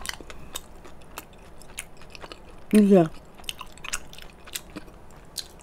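A single crisp bite into a mini glutinous rice ball with a crispy shell and cream-flavoured filling lands mid-clip, loud and close, amid soft mouth sounds and a brief spoken word.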